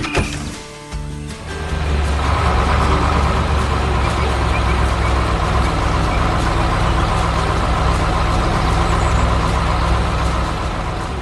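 An excavator digging a straight trench for a pipeline: a loud, steady diesel engine rumble with machinery clatter that starts after a brief quieter moment and holds constant to the end.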